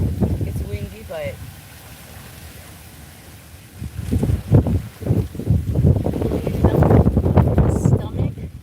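Wind gusts on a farm buffet the microphone with low rumbling bursts that grow stronger toward the end, while a person talks throughout.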